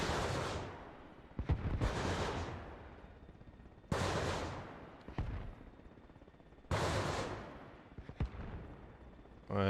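Rockets launched from an Mi-8 helicopter in Arma Reforger, three loud blasting salvos spaced a few seconds apart, each a sharp whooshing burst that fades into a rumbling tail, with smaller pops between them.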